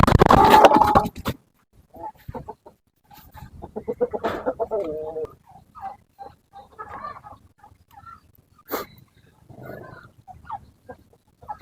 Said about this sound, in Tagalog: Ito po yung mga hen natin.